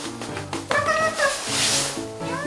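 A house cat meows at home in a few drawn-out, wavering cries, close and fairly loud, under a steady backdrop of voices.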